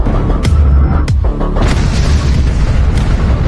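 In a submarine war film, The Silent Service, an anti-submarine bomb explodes underwater with a loud, deep boom, followed by several further heavy rumbling blasts and a sustained low roar.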